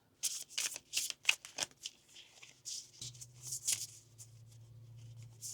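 Tarot cards being shuffled by hand: quick, crisp riffling and flicking bursts repeated in an irregular rhythm, close and fairly quiet, with a low hum underneath toward the end.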